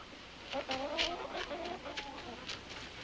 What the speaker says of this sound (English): Ah, yes, chickens.